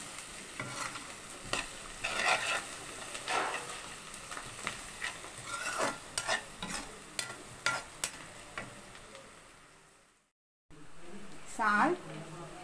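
Curry leaves sizzle in a pan over high flame for an egg cake curry, with a constant loud frying hiss broken by scraping stirs, a brief drop-out, then renewed sizzling.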